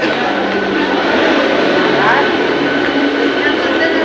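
Mumbai local train bound for Borivali pulls into a station, a loud continuous rumble of rail cars with a faint screech of braking midway, steady throughout.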